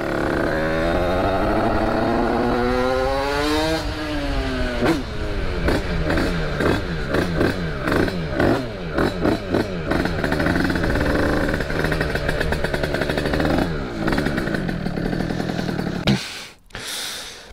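A Sherco motorcycle engine runs loudly nearby, revving up and down with a rough, throbbing, clattery exhaust note that briefly drops off near the end.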